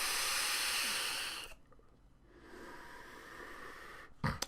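Airflow hiss from an Innokin MVP 4 vape fitted with a Scion tank, a loud, breathy, windy rush that drops out, returns softer with the airflow adjusted, then ends in a couple of sharp close clicks.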